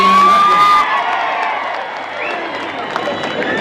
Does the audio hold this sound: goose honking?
no